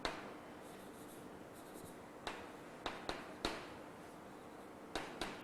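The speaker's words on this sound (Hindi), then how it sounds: "इसको हम ऐसे लिख सकते हैं." Pen strokes writing out a maths step on paper or a board for a Class 9 number-system problem, a few short scratchy marks spread across a quiet pause with no talking.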